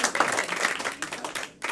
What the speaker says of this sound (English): Clap one more time for Sophia.